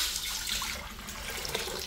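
Water runs steadily into a cooking pot while Filipino fried chicken is prepared with chicken leg quarters, soy sauce, liquid seasoning, bay leaves, whole peppercorns and garlic; a close, continuous pouring rush with no talking.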